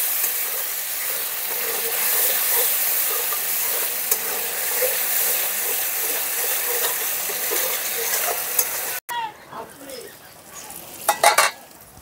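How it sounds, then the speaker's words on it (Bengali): Spice masala with tomato paste sautéing in a pan for a Bengali vegetarian dish, a steady close sizzle with scraping stirs throughout, dropping out briefly near the end before a few sharper clatters. "টমেটো পেস্টটা দিয়েও মশলাটাকে 2 মিনিটের মতন কষিয়ে নিতে হবে।"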